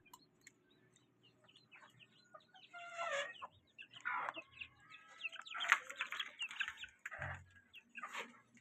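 Newly hatched chicks in an incubator cluck and chirp in short bursts at close range, the calls growing busier partway through against a quiet background.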